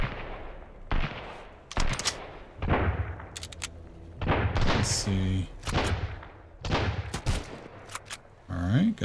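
Repeated gunfire from a survival shooter set on flooded ruins, sharp bursts and single shots scattered throughout at close range, with players talking over the fighting.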